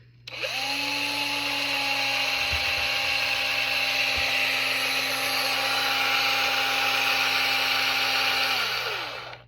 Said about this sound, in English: put it in your drill, and just drill you a hole in the bottom